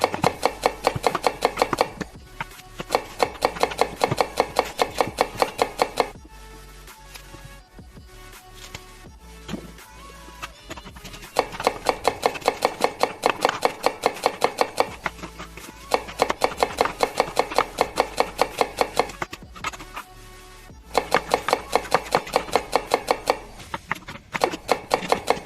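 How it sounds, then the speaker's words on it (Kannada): Steady, rapid knife chopping on a board as vegetables such as onions, tomatoes, chillies and garlic are cut for brinjal curry, coming in long rhythmic bursts with brief pauses between them and no talk. "ನಾವು ವೆಜಿಟೇಬಲ್ಸ್ ಎಲ್ಲ ಕಟ್ ಮಾಡ್ಕೊಂತಿದೀವಿ ಗಾಯ್ಸ್"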